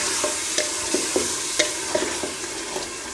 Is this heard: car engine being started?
no